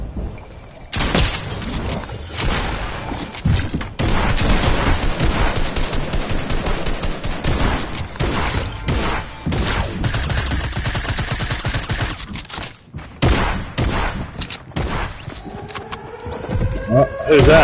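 Video game gunfire, dense rapid bursts of shots crackling almost continuously at close range, with short gaps and players talking over the shooting.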